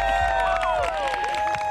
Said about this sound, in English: Got a great crowd here